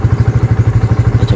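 Yamaha Vixion motorcycle engine turning over and running on its electric starter, a steady rapid pulsing thump, close and fairly loud with no talk.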